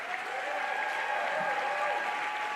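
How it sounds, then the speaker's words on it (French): Sustained audience applause at a live stage show, a dense even wash of clapping from a crowd filling the whole stretch without pause or voices. "Applaudissez fort qui vous entendent de loin."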